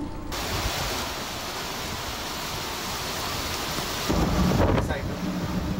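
Strong typhoon wind and heavy rain from Super Typhoon Pepito lash the town of Daet in Camarines Norte, a continuous loud roar of gusts and downpour that swells louder near the end.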